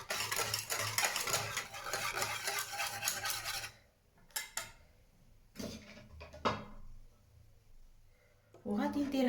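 Natural brown hair dye ingredients being mixed by hand, a busy scraping and stirring rasp that fills the first few seconds, then scattered short knocks and scrapes with quiet gaps between.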